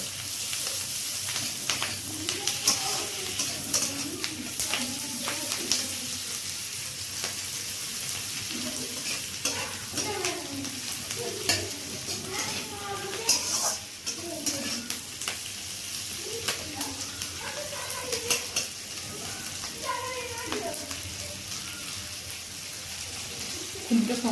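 Onion and green chilies fry in a pan for a chilli chicken, a continuous crackling sizzle with repeated stirring scrapes and clinks, and a voice talking faintly underneath at times.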